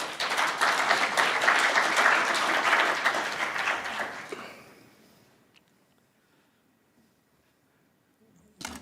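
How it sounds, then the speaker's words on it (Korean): Warm applause from a conference audience welcoming the opening speaker at a Liberation 80th anniversary unification event, strong for about four seconds and then fading into near silence, with a small knock at the end. "모두 큰 박수로 맞아주시기 바랍니다"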